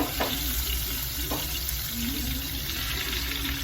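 Chicken pieces fry in an uncrowded pan for Peruvian green rice and chicken, giving a steady, close, loud sizzle throughout, with faint scraping of a utensil and no talking.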